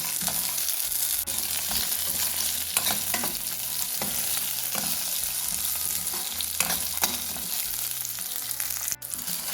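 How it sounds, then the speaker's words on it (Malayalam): Steady sizzling of chutney ingredients, including tamarind, roasting in a hot pan, with a spoon stirring and scraping now and then, continuous and close. "എല്ലാം കൂടി ഒന്ന് റോസ്റ്റ് ചെയ്യാം കേട്ടോ"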